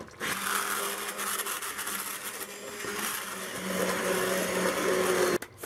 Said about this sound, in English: I wanted to go in with the immersion blender just a little bit, just to kind of get it a little bit smoother.